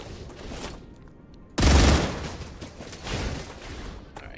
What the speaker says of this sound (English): they're all on the other side of that ravine there shooting at me